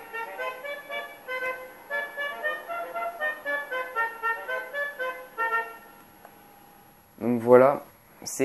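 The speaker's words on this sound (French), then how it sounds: "c'est un des 3 nouveaux klaxons" A car horn plays a rapid, repeated musical melody, then stops; after a pause, a short burst of a different, rising horn tone follows.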